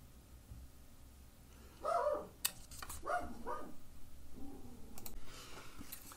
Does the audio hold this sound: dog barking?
yes